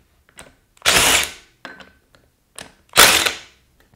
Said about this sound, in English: let's buzz off these back bolts